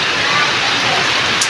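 Rain pours onto a damaged tent in a steady, loud, close hiss that holds without a break.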